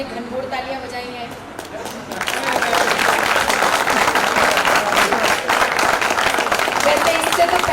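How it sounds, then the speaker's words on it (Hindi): Loud applause from a college audience at a Hindi comedy poetry event in Delhi, starting with a speaking voice and music-like tones, then swelling into dense, sustained clapping that fills the rest of the clip. "ये जो मेरे आने पे आपने घनघोर तालियां बजाई हैं"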